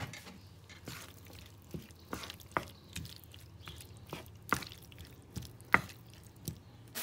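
Pasta with vegetables is stirred in a pot of starchy cooking water, giving soft wet clicks and squelches in an irregular rhythm, close and fairly quiet.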